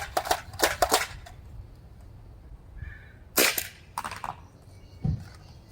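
A Nerf shotgun firing foam half darts outdoors, a few sharp snapping pops in quick bursts, some doubled, separated by quiet gaps, near and fairly loud.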